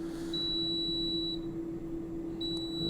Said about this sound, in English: It just says ends and beeps, and take your food out